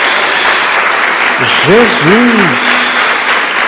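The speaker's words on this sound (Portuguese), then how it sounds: "Tem mais uma salva de palmas a Jesus." A church congregation applauds in a steady wash of clapping while a voice speaks briefly over it partway through.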